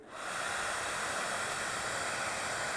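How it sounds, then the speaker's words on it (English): A hair dryer switches on and blows steadily upward with a ball floating on the airflow, a loud, continuous rushing hiss of air that holds without a break. "when we turn the hairdryer on with the ball sitting on top of it"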